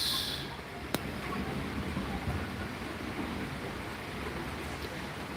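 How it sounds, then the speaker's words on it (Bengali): A heavy evening downpour in Dhaka, driven by wind, makes a dense, steady wash of rain with one sharp tap near the start and no talking. "বৃষ্টিটা মোটামুটি ভালো বৃষ্টি পড়তেছে বারান্দায় বসে থাকতে পারছি না বৃষ্টির কারণে"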